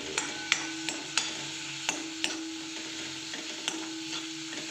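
Chili powder is stirred into a sizzling pan for dal palak, a soft steady fry hiss broken by several sharp spoon taps and scrapes against the pan, fairly quiet and without talk.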